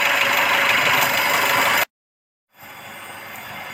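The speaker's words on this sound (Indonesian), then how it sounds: "memperhatikan suara mesin mobil yang benar-benar normal, tidak ada suara yang aneh di dalam sana" A car engine idles normally with a steady, even hum and no odd noises, cut off abruptly for about half a second before resuming slightly quieter.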